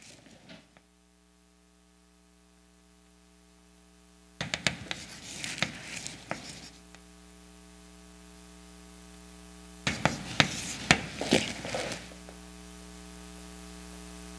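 Chalk or marker scratches and taps on a board during a math lecture, two separate bursts of brisk scribbling a few seconds apart, faint against a steady electrical hum, with quiet gaps between.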